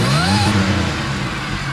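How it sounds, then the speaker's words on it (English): A Monte Carlo SS engine revs hard up close, a rising supercharger whine riding over the loud engine roar before it eases off, with no talk. "I know y'all heard that supercharger."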